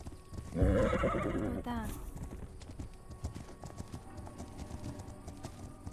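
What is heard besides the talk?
horse hooves clip-clopping in a video game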